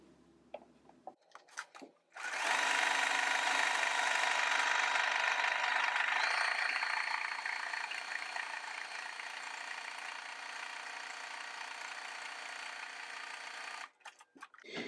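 Sewing machine zigzag stitching down the edge of a fabric pleat, a close steady whir running for about eleven seconds after a few soft handling clicks, then stopping.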